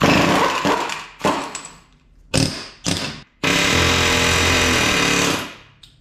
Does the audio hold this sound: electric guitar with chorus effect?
no